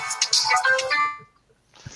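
A Samsung phone ringtone plays a short bright melodic phrase for about a second, then cuts off, followed by a brief faint noise near the end.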